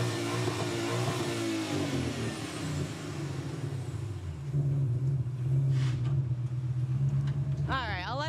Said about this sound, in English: I don't know if you hear those engines revving, but I'm sure he's going to pull in here any second.